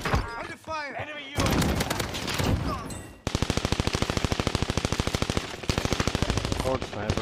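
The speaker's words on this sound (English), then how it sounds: "Taking fire!" Rapid bursts of automatic machine gun fire in a video game, loud and close with evenly spaced repeated shots forming long volleys, while voices talk over the action.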